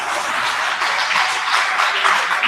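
An audience at a business workshop applauds, a dense, steady wash of many hands clapping at moderate distance, sustained throughout without speech.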